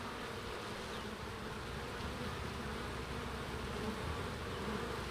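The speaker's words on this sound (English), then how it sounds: "The rest of them are all coming and going for nectar and for pollen, going in and out of the hive." Honey bees flying in and out of a hive make a constant, close buzzing drone, a dense swarm hum that stays steady and fairly quiet throughout, with no voices.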